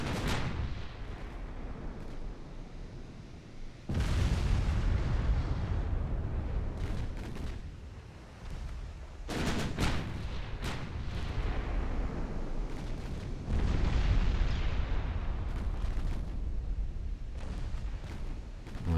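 Warship main guns firing high-explosive shells in the Ultimate Admiral Dreadnoughts naval game, a sustained rumble of heavy artillery with repeated booming salvos and sharp blasts layered over one another, loud and continuous.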